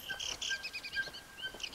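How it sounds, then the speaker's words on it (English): Bright, repeated bird chirps and tweets in a Ghost Recon Wildlands video game, a quick series of calls over a soft ambient background at moderate volume. "You hear these freaking birds? They sound like in Mexico."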